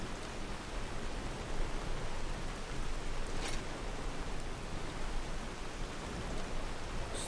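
Heavy rain pours down in the game Skyrim, a loud, steady hiss of downpour that continues without a break from start to finish, with no voices.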